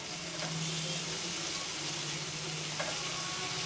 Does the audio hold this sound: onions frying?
yes